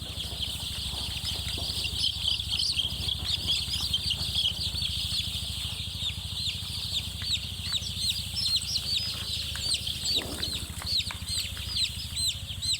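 Three-day-old Kala Butt chicks cheep constantly in a dense, high chorus close by, with a few soft wing flutters and faint background hum.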